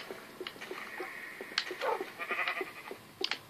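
Sheep bleating in Minecraft, with a few wavering bleats layered among soft footsteps and game effects, fairly quiet and close.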